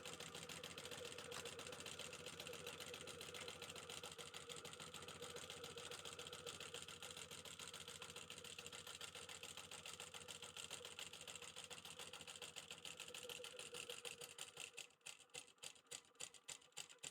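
An industrial sewing machine runs in a steady, continuous whir while stitching at about a 4.5 stitch length, then stops near the end and leaves a few short, sparse clicks and knocks.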